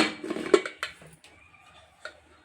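A few metallic clanks and clicks of a pressure cooker lid being handled and closed, then a quieter rattle, in an otherwise calm room.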